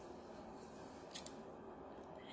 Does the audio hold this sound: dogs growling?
no